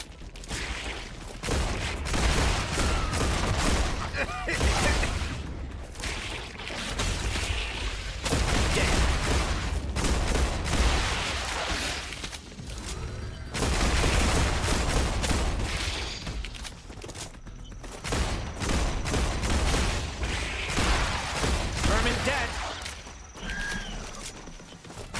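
Gunfire in the video game StarRupture while defending a position: repeated long bursts of loud, rapid shooting separated by short pauses, with booming impacts and mechanical clatter.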